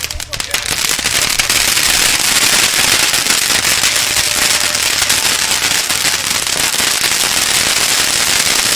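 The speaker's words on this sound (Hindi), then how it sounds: "फिलहाल आतिशबाजी हो रही है और आतिशबाजी के बीच में पहले आपको आतिशबाजी की तस्वीरें दिखाते हैं।" Dense, loud, continuous crackling bursts of fireworks and firecrackers during celebrations in Kashi after India's Champions Trophy final win, an unbroken wall of rapid pops.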